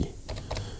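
A quick burst of a few keystrokes on a computer keyboard, close and fairly quiet.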